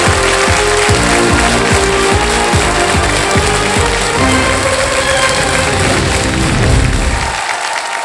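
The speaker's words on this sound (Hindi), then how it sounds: "तालियां बज जाए इनके लिए।" A game show studio audience on KBC breaks into loud sustained applause that fills the clip, then cuts off abruptly near the end.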